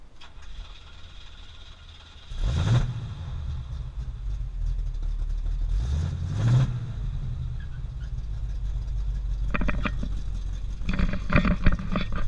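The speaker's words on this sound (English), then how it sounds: "The exhaust comes up right underneath your ass, so it's quite loud." A 1968 Oldsmobile engine, partly disassembled, runs loud and close with a steady rumbling exhaust, swelling in two strong revs near the start and middle before rougher bursts toward the end.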